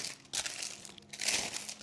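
Parchment paper crinkles as a warm liver sponge roll is wrapped in it, two short bursts of rustling close by with a quieter pause between.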